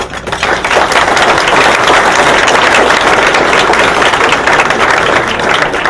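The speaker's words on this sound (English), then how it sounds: "So a very round hand of applause for Bruce." Applause for a colleague at a university orthopaedics resident graduation dinner, a dense, steady wash of many hands clapping at close range that fills the whole stretch at an even, loud level.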